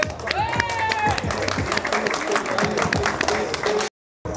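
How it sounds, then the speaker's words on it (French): An audience applauds at a bar-based fitness competition event, steady clapping from a crowd with talk and shouts mixed in, before a sudden cut to silence near the end. "on peut l'applaudir s'il vous plaît"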